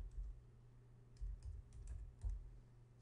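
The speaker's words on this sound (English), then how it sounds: "So I'm going to type in" Brief typing on a computer keyboard in a Windows command prompt, a few soft key clicks over a steady low hum.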